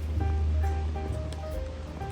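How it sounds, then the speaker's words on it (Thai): A waterfall on the Barron River near Cairns, heard as a steady, dense rushing roar with faint wind and distant hum, no pauses. "น้ำตก"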